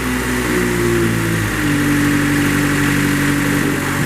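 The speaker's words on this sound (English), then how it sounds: "There's your mast going out and in." A 2005 Moffett M4000E truck-mounted forklift runs its hydraulics as the mast moves out and back in, a steady engine hum with a whining pump tone that shifts pitch partway through, close and continuous.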